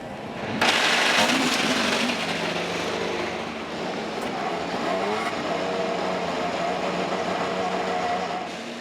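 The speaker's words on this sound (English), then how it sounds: "Gentlemen, start your engines." IndyCar race car engines fire up and run together at Iowa Speedway, a sudden loud roar that settles into a sustained, dense engine drone with crowd ambience around it.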